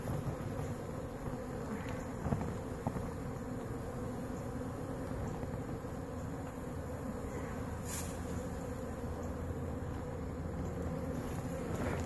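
Honeybees in an opened, healthy hive keep up a dense, continuous drone for several seconds, close and steady, with no voices over it.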